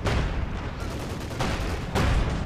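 Tank gun shots and gunfire in the Company of Heroes 2 strategy game, with a dense wall of battle noise and a few heavier blasts punching through, loud and continuous with no talking.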